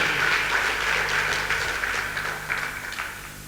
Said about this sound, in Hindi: जोरदार तालियां एक बार मेरी टीम के लिए।